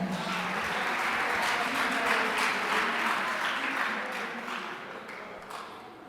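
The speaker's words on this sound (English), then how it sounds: "Round of applause for her." Audience applause for a student presenter at a school gender-based violence prevention dialogue, a dense steady wash of clapping from a crowd that swells and then gradually tapers off.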